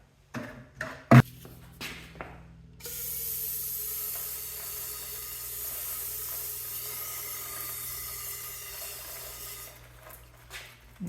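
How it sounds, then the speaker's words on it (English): Brake cleaner is sprayed into the splines of a 1999 K2500 Suburban drive shaft as a steady, close hiss lasting several seconds, with a few clanks and taps before and after. "And I'll spray it out with some brake cleaner."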